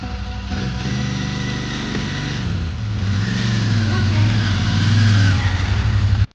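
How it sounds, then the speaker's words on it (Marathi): A heavy Royal Enfield Interceptor 650 motorcycle engine rumbles and revs, its pitch rising and falling across several seconds before cutting off abruptly at the end. "माझी गाडी आहे इंटरसेप्टर सिक्स फिफ्टी"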